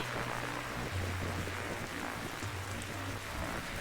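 Steady rain falls at night in The Darkside Detective video game, a dense continuous hiss of downpour with a low rumbling undertone and no speech.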